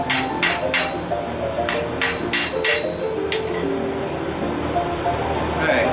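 Blacksmith hammering a hot fork-like piece over the horn and body of an anvil, with sharp ringing metallic strikes in uneven clusters, loud and close, and a low steady background hum.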